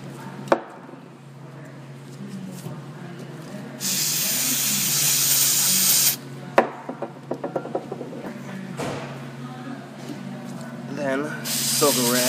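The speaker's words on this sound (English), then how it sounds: "And you can spray it down while it's all loose." A loud aerosol throttle body cleaner hisses in two long bursts onto a car's electronic throttle body, with clicks, taps and handling noises around them up close.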